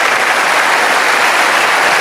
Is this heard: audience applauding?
yes